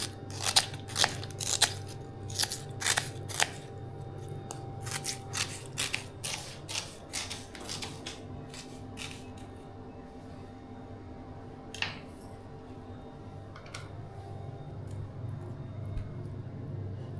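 A knife chops onion on a board while a chicken fry is prepared, with quick, crisp, close cuts in bursts for several seconds, then thinning to occasional taps over a low steady background hum.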